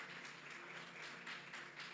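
A church congregation applauding, a steady wash of clapping that sounds soft and somewhat distant throughout.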